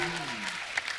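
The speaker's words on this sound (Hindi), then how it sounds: "जोरदार तालियां।" Audience applause in a Hindi comedy show studio, a brief burst of clapping and crowd noise with a voice briefly heard over it at the start.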